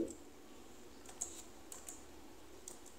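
Keys tapped on a computer keyboard while entering a login code, a few sparse, light clicks spaced irregularly over a quiet room hum.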